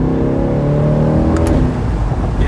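A 2022 Corvette Z51 with the performance exhaust and a 495-horsepower engine revs in manual mode, a loud, steady, close engine drone that rises in pitch and then eases off.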